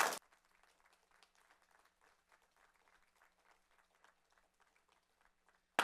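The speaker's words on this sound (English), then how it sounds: "if we could give them a round of applause" Faint, scattered applause rises from a forum audience for the candidates, thin and distant, with soft uneven clapping that tapers off between louder bursts at the very start and end.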